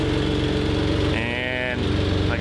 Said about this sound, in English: I'm pretty sure I got an exhaust leak